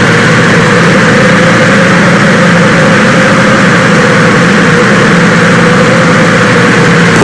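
An ultralight aircraft engine idling at low throttle in Flight Simulator, a loud steady droning hum with even buzzing vibration that holds unchanged throughout, with no speech.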